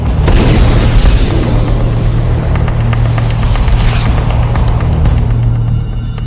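Loud, continuous explosion rumble in a mined war zone of the Russia-Ukraine war, with sharp bursts and crackling debris, a heavy booming roar that stays intense before easing slightly at the end.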